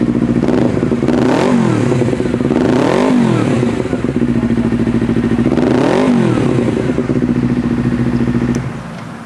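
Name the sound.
Honda CBR 250 RR two-cylinder motorcycle engine running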